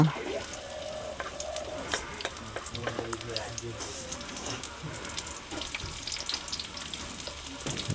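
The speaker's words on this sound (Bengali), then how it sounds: "প্রথমে পেঁয়াজ কুচি দেওয়া হচ্ছে" Chopped onions sizzle and fry in hot oil while being stirred, a soft, crackling hiss with scattered spatters and scraping, fairly quiet and steady, with no voices.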